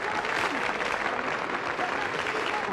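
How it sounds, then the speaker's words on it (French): A TV studio audience applauds Mort Shuman after he wins a game round, a dense, steady wash of clapping that fills the moment at full volume with no voices on top. "on l'applaudit bien fort"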